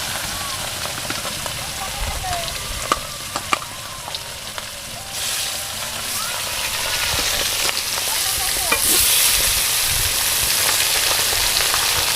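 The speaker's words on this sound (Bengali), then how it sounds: "আমার মাছ ভাজা হয়ে গেছে" Rohu fish frying on a clay stove outdoors in a village kitchen, a steady low crackle and hiss of oil that thickens toward the end, with scattered clicks and faint background noise.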